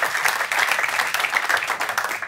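Steady applause from a studio audience on an Arabic-language football talk show, dense crisp clapping at an even loudness throughout, with no pauses.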